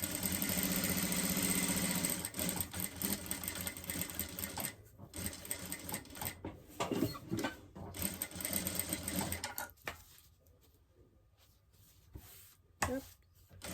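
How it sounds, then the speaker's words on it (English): A sewing machine stitches along the sides of a zippered pouch pocket in bursts of rapid mechanical whirring, loud at first, then broken by short pauses and quieter stretches. "we need to sew around the sides of our pocket just to sew them together"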